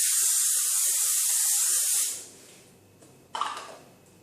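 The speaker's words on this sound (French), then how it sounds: "On prend un spray d'huile. J'ai utilisé de l'huile d'olive." A spray bottle of olive oil mists puff pastry petits fours topped with egg yolk before baking, giving one steady close hiss for about two seconds, then quiet with a soft clatter near the end.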